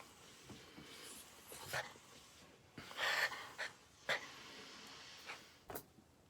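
A small Yorkie-style dog pants and snorts in short, irregular bursts close by, with a few sharp breathy huffs spread across the stretch rather than clear sustained barking.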